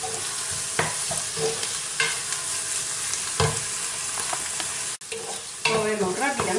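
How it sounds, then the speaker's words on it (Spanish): Smoked paprika de la Vera stirred quickly in hot oil over minimum heat for a chickpea and butter bean stew: a loud, continuous sizzle with rhythmic spoon scrapes every second or so, close up and without talk. "Movemos rápidamente para que, yo lo tengo puesto al mínimo para que no se nos queme lo que es el pimentón y amargue"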